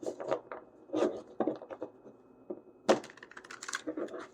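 Tarot cards are shuffled by hand in a series of soft, quick riffles and rubs close by, with a sharper burst partway through and brief pauses between bursts.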